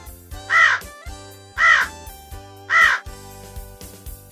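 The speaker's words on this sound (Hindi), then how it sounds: "कौआ।" A crow gives three loud, harsh caws at an even pace of roughly one per second, close and isolated against quiet.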